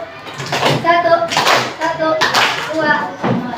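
Schoolchildren in a classroom do the rhythmic scout clap, a quick patterned burst of many hands clapping together in sets, loud and close, mixed with their voices.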